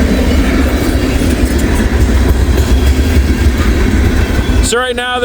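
A freight train with a big 89- or 90-foot Conrail boxcar rolls past in the snow, a loud, broad, steady rumble of wheels and cars, ending abruptly in a brief tonal sound.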